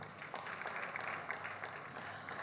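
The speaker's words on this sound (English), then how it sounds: "Let's appreciate her with a round of applause." Audience at a cooperative awards ceremony in Lagos State applauding an honoured guest from the Ministry of Commerce, a dense steady patter of many hands, moderately distant and continuous.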